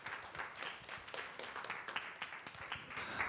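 A church young-adult congregation applauds at a Sunday worship service to welcome a newcomer, steady scattered clapping filling the room without a clear peak.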